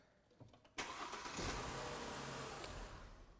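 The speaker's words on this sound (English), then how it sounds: "we're going to activate this starter. Go ahead and crank." A car's starter motor cranks the engine after a few faint clicks, then a loud, sustained churning whir runs continuously close by for the rest of the clip.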